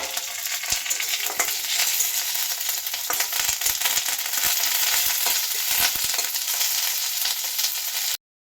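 Curry leaves sizzle and crackle in hot oil while being stirred for a chutney tempering, a steady broadband frying hiss with scattered small pops and scrapes, close and continuous throughout with no talk.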